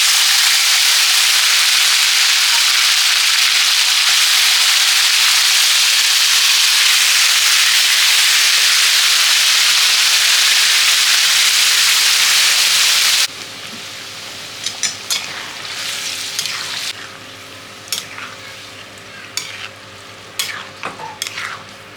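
Yogurt-marinated chicken hits a hot pan with a loud, steady sizzle and hiss close by, then the frying fades to quieter stirring scrapes and utensil clinks.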